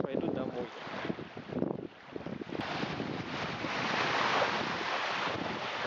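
Sea waves wash onto a beach shore at Anapa in October, a steady loud roar of surf with strong wind buffeting the microphone throughout.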